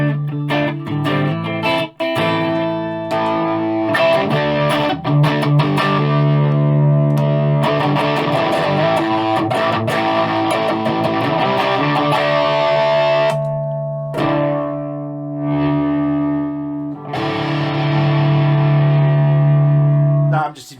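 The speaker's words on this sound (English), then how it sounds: "There's less gain on the drive channel, so this is your mildly overdriven." Electric guitar through a Tone City Heat pedal with mild overdrive on the drive channel, sustained chords and notes ringing out with slight grit, steady and fairly loud, a brief dropout near the start.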